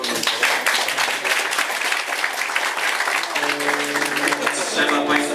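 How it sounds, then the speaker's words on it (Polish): Warm applause from a concert audience at a youth song studio show, steady and full throughout, with sustained musical tones rising beneath the clapping toward the end. "Wielkie brawa."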